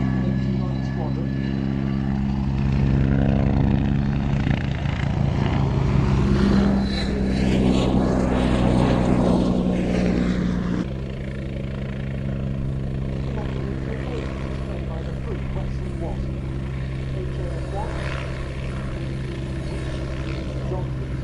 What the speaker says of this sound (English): I fly a Westland Wasp helicopter.